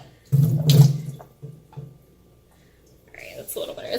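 Water running from a kitchen tap into a bowl while making a French silk pie, a loud splashing burst early on that fades to quieter trickles, with a person talking softly near the end.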